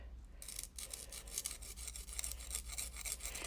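A nail file or emery board strokes steadily along a paper trimmer blade, giving a quiet, repeated scratchy rasp with no talking.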